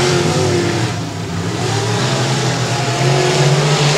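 Dirt-track race car engine at Sabine Speedway catching again and revving, a loud, continuous roar with rising and falling pitch, other engines blending in the background.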